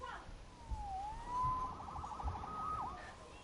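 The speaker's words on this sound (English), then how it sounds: "Saved by the siren." Police siren in a Spider-Man video game, a single wailing tone sweeping down and back up and holding steady, then rising again, moderately loud over faint background ambience.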